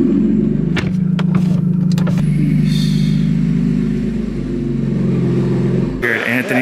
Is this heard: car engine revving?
yes